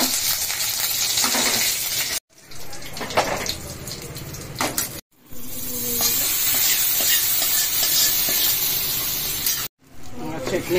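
Oil heats in a pan for a dosa chutney tempering, giving a bright hissing sizzle broken by a few abrupt cuts, with some clinks and stirring mixed in.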